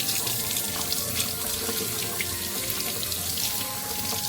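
Hot water runs steadily from a tap into a sink, a continuous close splashing and gurgling that lasts throughout with no voices.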